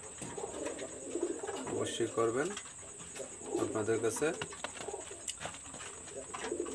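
Several pigeons coo nearby in soft repeated bursts, a rolling rhythmic coo in two or three rounds, with someone talking over them.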